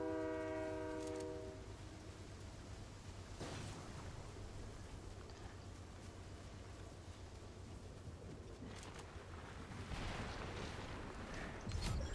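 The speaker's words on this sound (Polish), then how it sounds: "Pociąg tu jedzie" A train rolls through a battle royale game map, its horn sounding in a short loud blast at the start before the steady rumble of wagons continues, fairly faint and distant, with no voices.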